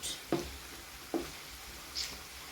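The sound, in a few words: sausages frying in a pan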